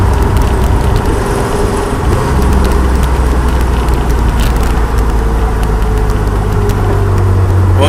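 A Datsun 240Z accelerating in second gear in heavy traffic, its engine a steady loud drone heard from inside the car, with no voices.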